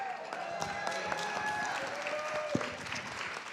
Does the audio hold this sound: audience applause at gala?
yes